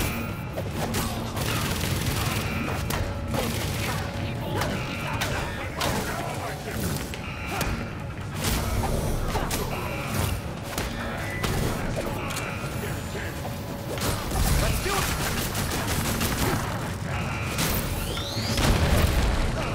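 Gunfire and explosions from a railgun in the Gotham Knights video game, heavy booms and mechanical clanks mixed with a dense, continuous battle din.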